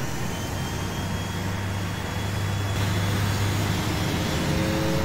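Airliner engines roar during the takeoff roll on runway 13 at Ljubljana for Inex Adria flight JP1308. A dense, continuous broadband rumble with a steady low drone holds throughout and grows slightly louder partway through. No voices.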